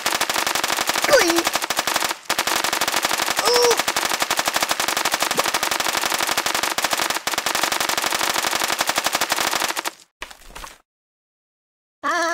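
Rapid, continuous machine gun fire from the Kick The Buddy mobile game rattles on for about ten seconds, loud and dense with brief squeaky cartoon vocal sounds mixed in, then cuts to silence.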